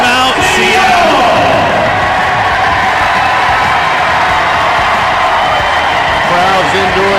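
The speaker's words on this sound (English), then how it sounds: "Crowds into it." A basketball arena crowd roars and cheers loudly during a Seattle timeout, a dense sustained wall of yelling and whoops, with an announcer's voice over it.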